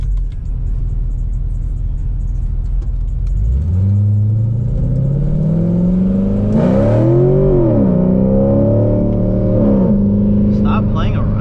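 An LS3 V8 in a C6 Corvette rumbles at idle, then revs up hard while racing an Acura, the loud close engine note climbing in pitch, dipping at a shift and climbing again.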